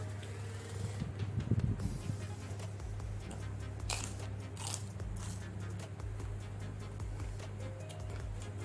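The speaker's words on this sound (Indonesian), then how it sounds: "Ini tempe yang dipotongnya tipis-tipis dari kriuk-kriuk" Crunchy bites and chewing on thin-sliced crispy fried tempeh, a few sharp crackles followed by steady munching, close up over a low background hum.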